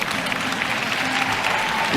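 Audience applause breaks out during a motivational speech, a steady, dense wash of clapping from a large crowd that holds at an even level for the whole stretch.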